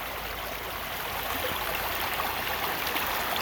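Water rushes through a gold prospecting setup outdoors, a steady, full-bodied hiss and splash that holds constant and grows slightly louder partway through, with no talking over it.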